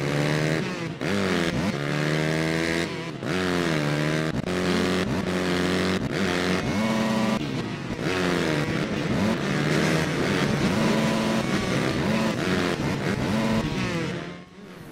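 A motocross bike engine in the game MX vs. ATV Reflex revs continuously, its pitch rising and falling with gear shifts and throttle changes, loud and close throughout.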